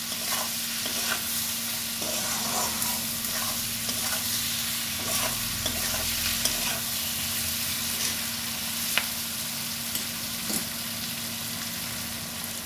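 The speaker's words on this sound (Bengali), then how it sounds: "সব মশলা দিয়ে কুদলিগুলোকে ভালো করে আরেকটু ভেজে নিতে হবে।" Ivy gourd (kundru) fries with spices in a pan, a steady close sizzle broken by repeated scrapes and clinks of stirring, with no talk over it.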